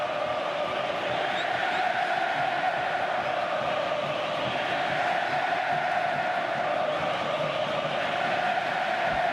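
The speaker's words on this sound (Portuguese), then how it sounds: "Vamos ouvir a torcida do Grêmio." Grêmio football supporters roar at a stadium during the Grenal derby against Internacional, with the home side leading 1–0. A dense, steady wall of crowd noise and cheering rolls on without a break throughout.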